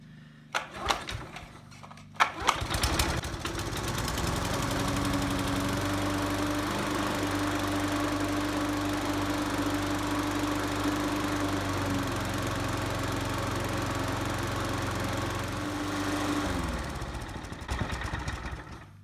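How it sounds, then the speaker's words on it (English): An old lawnmower engine fitted to a dethatcher catches after a couple of hard cranks and settles into a loud, steady running drone with a rough mechanical buzz, before cutting out and sputtering near the end. "I could just give it a couple big cranks."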